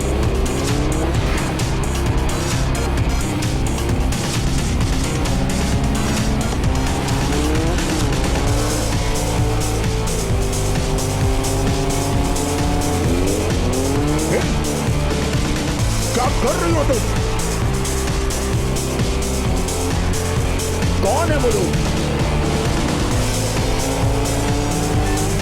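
A car driving fast in an action thriller chase, engine roaring and tires squealing in long rising and falling skids, loud and continuous under music and voices speaking Hindi.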